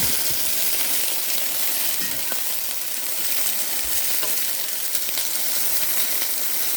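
Garlic frying in a pan gives a steady, close sizzle that holds unbroken throughout, with a few faint clinks of a utensil.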